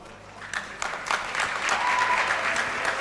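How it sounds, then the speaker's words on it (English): Audience applause at a law school valedictory function, a steady roomful of clapping that swells after a softer start and keeps going without talk. "A big round of applause, ladies and gentlemen."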